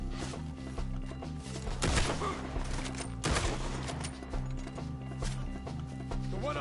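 Rapid bursts of rifle and pistol gunfire in a Red Dead Redemption 2 shootout among trees, loud close cracks overlapping with galloping hooves and game music, steady and dense throughout.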